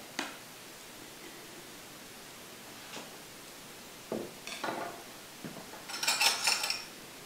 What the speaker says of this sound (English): I'm going to take out the pit